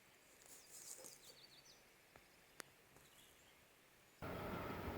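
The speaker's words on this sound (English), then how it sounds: "Listen to the birds" Faint birdsong carries along a sunny forest trail, with quick high chirps and twitters over soft background hush, a single sharp click, and then a sudden burst of broadband noise near the end.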